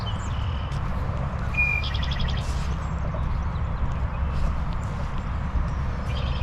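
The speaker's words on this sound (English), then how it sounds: "There are all those birds down there, and you can hear them." Birds chirp in short scattered calls along the Minnesota river during high, fast water, heard over a steady broadband rush of flowing water.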